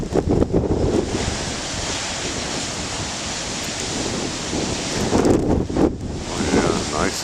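Big ocean waves crash and surf roars steadily on a windy, rainy day, with heavy wind buffeting the microphone throughout and louder surges near the start and end.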